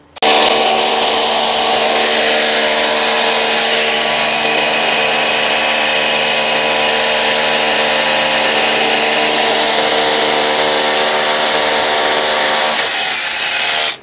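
A Dekton cordless concrete hammer drill runs continuously for about fourteen seconds, a loud, close, steady high-pitched whine with a faint rising tone near the end, then cuts off.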